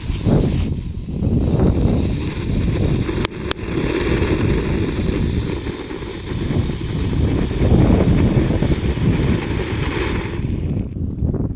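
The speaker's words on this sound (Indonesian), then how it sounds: "lanjut kita mau eksperimen menyalakan lovely fountain. Ini air mancur kerucut di lubang tanah. Kita nyalakan." Cone fountain firework burning outdoors in a hole dug in the ground, a loud, continuous roaring hiss that holds for about ten seconds before fading at the end.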